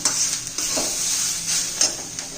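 Onion for a spicy mutton curry fries in a pan, a continuous close sizzle broken by a few scraping stirs of a spoon against the metal, with no talking.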